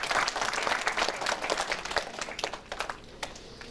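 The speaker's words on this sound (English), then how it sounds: "So can we go for a round of applause once again?" An audience applauds at a school graduation ceremony, dense steady clapping that starts full and gradually thins and fades toward the end.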